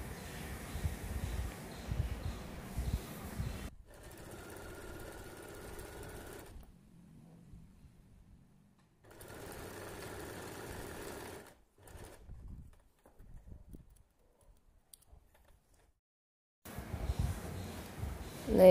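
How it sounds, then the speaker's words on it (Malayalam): A sewing machine stitches the folded neck edge of a kurti in several bursts of steady whirring, separated by short pauses of near silence, close and fairly loud. "ഇനി ഇത് നമുക്ക് തയ്ച്ചെടുക്കാം."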